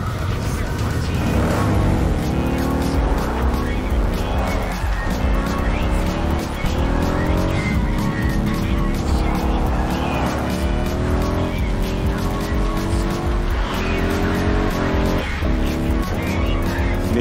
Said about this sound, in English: I could definitely blindfolded tell that that's the Method 143-ish sounding motorcycle